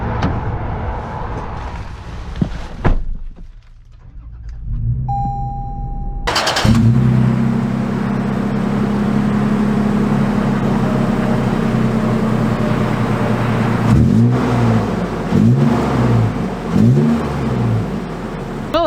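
A 2022 Toyota 4Runner TRD Pro engine starts up and revs steadily as the SUV pulls away, a loud, close, sustained drone with rising and falling pitch sweeps near the end.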